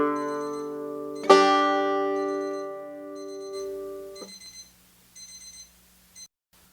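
A kitchen timer signals that a roast is done with a single bright bell-like ding that rings out and fades over a few seconds. It is fairly faint and close, with a sustained tone beneath it and no speech.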